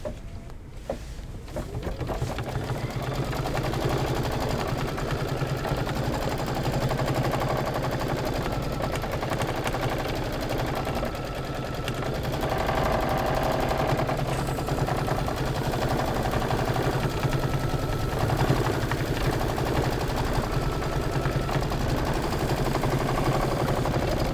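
An embroidery machine stitches a tack-down outline around puffy foam and cork on a Christmas tree quilt block, a steady, rapid mechanical chatter that runs unbroken and close throughout, with no talking.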